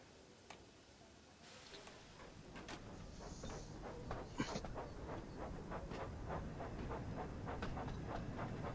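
A steam train rolling along the rails in a Sodor video game, with quiet, regular clicking and chuffing beats and faint hissing that build slightly in level over a steady background.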